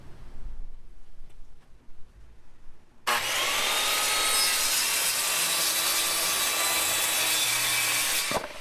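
Quiet shuffling gives way to a wooden board being cut with a power saw, a loud, sustained whine and rasp that continues for several seconds before cutting off abruptly.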